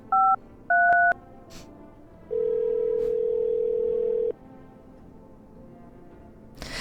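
Telephone keypad tones in a horror video game: two short dual-tone beeps, then a steady held ring tone lasting about two seconds before cutting off, clear against a faint quiet background.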